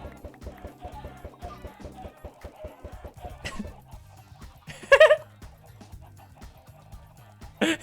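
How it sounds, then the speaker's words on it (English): Chickens clucking in Minecraft as they are attacked, soft repeated clucks with a few louder squawk-like hits and a brief sharp burst midway, over quiet background game sound. "Yeah, rip chickens. Sorry, chickens. I need your flesh."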